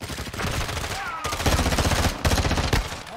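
Pistol gunfire in Modern Warfare 2 crackles in dense, rapid bursts with short gaps, loud and close, mixed with game noise and some voice.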